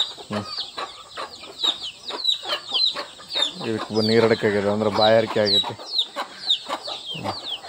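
Country chickens on a cold, rainy morning give repeated sharp clucks, with one longer drawn-out call in the middle, close by, while someone talks over them.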